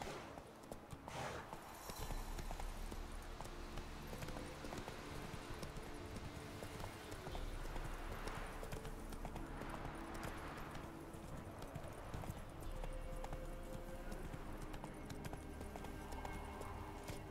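Roach the horse walking along, hooves clip-clopping in a steady, fairly faint rhythm over a low continuous background, with no talk.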